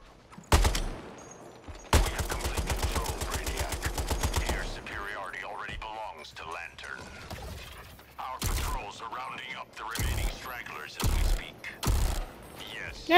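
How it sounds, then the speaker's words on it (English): Gunfire in Suicide Squad: Kills the Justice League: a single shot, then a long fast automatic burst, followed later by several separate loud shots, with speech between them. "Is someone trying to shoot at me?"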